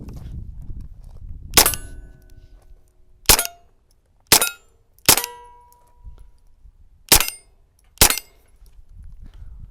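A Derya Arms TM22 .22lr rifle fires six sharp, metallic cracks at irregular intervals, loud and close, with quiet pauses between shots.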